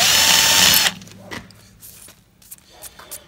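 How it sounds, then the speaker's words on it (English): A power drill runs loud and steady through an aluminum rifle mount, then cuts off abruptly, followed by light clicks and handling noises close by. "drill it from the back side"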